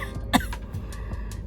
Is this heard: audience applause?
no